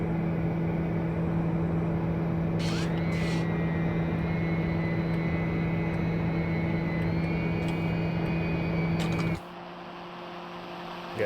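A TBM900 turboprop accelerates down the runway on its takeoff roll in a flight simulator, a steady loud engine drone with a rising whine as power builds, cutting to a quieter tone near the end.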